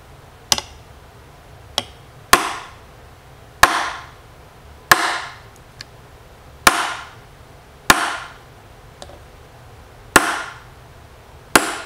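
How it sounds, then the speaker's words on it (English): A hammer drives a nail into the metal roof of a Matchbox toy car, about ten sharp, ringing strikes at a steady pace, each with a brief metallic decay, and a few lighter taps in between. "and a hammer to hit a hole right on the roof."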